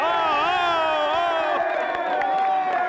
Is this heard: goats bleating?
no